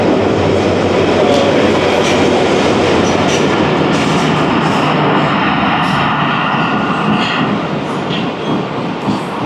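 A train rolls through Jhimpir railway station at about 46 km/h, a loud close rumble of wheels and carriages with rhythmic clatter and faint squeals, easing slightly near the end.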